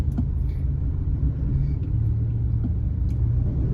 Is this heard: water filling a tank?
no